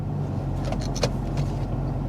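A 2000 Toyota Camry engine idles steadily with a low, even hum, close by and continuous, and no talking over it.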